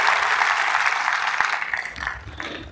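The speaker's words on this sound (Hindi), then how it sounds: "जबरदस्त तालियां होनी चाहिए।" An audience claps loudly and continuously at a motivational program, a dense wash of applause that thins slightly toward the end.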